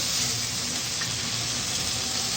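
Masala spices frying in a pot for a Shimla aloo (capsicum and potato) dish, a steady close sizzle with no talking.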